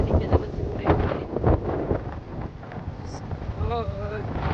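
Strong coastal wind at Stingray Bay in Warrnambool buffets the microphone in a steady, loud roar with gusting swells, while people talk faintly underneath.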